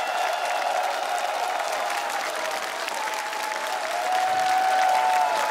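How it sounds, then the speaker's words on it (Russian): Sustained applause from a large audience greeting a speedcubing champion on a TV show stage, dense steady clapping with faint crowd murmur that swells slightly toward the end. "Конечно, Володя достоин всех этих аплодисментов"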